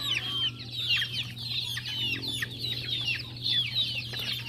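Backyard gamefowl chickens clucking nearby, with overlapping chirpy calls and soft clucks going on continuously over a low steady hum.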